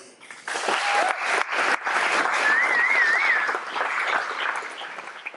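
A dinner crowd at the Front Porch 2023 fundraiser breaks into loud, sustained applause, with a brief whistle rising above the clapping.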